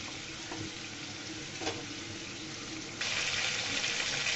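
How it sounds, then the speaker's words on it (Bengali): Chicken pieces deep frying in hot oil, a steady close sizzle and crackle that grows brighter and louder partway through, with no talking. "আমি অনেকক্ষণ ধরে ভাজা করতেছি, এক পিঠ হয়ে গিয়েছে"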